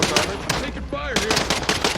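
Rapid automatic gunfire in the video game Warzone, loud bursts of dense shots filling most of the moment with a short lull in the middle.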